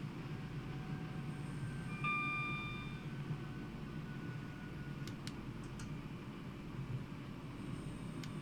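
A Class 323 electric train in Regional Railways livery runs from Birmingham to Lichfield in a simulator, with a steady low rumble of motion, a brief tonal whine and a few sharp clicks of controls.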